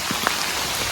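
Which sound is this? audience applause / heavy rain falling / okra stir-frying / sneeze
heavy rain falling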